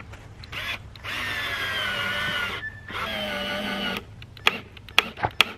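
A power drill drives screws into wood while a simple firewood rack is built, with steady whirring runs broken by short pauses, then several quick sharp bursts as screws seat, close and fairly loud.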